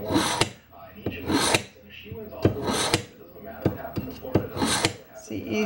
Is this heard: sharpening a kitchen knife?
yes